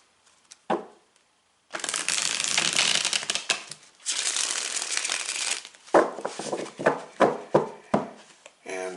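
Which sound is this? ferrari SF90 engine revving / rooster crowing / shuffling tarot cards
shuffling tarot cards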